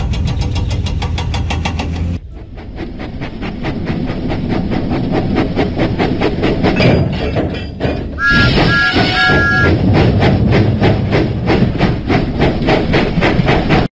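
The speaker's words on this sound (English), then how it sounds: "Huffing and puffing, Thomas set out for Farmer Trotter's farm" A steam engine from a Thomas and Friends video game chuffs loudly in a steady rhythm, with a brief tonal whistle partway through and no voices.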